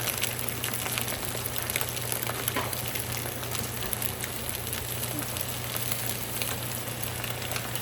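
Perch fillets fry in oil that is a little too hot, giving a steady, close, dense sizzle that runs throughout without pause.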